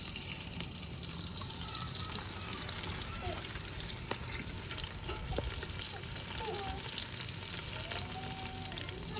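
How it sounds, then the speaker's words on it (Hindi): Onions frying in a pan until brown, a continuous dense sizzle with faint crackles and occasional stirring, steady and close throughout. "ये देखो, प्याज मैंने ऐड कर दिया है। अभी ये जो है माशाल्लाह ब्राउन हो रहे हैं।"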